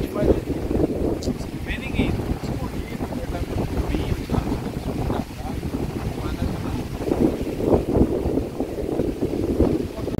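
Strong wind blows on a beach at Sítio do Conde, Bahia, buffeting the microphone in loud continuous gusts with surf underneath, while people talk briefly over it.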